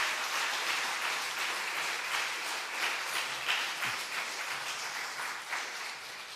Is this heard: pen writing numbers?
no